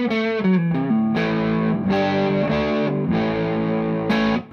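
Sustained electric guitar chords on the neck pickup, through a YellowRock CA35H amp head, ring out with a warm, rounded tone and a wash of reverb, played alone in a short, moderately loud phrase.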